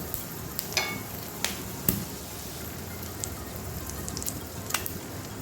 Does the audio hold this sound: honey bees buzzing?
no